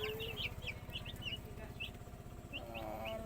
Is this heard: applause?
no